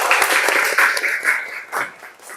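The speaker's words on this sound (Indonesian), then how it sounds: "Tepuk tangan untuk Sabina dong." A seated audience in a university lecture setting claps for a presenter, a brisk burst of many hands that starts full and loud and then thins out and fades over about two seconds.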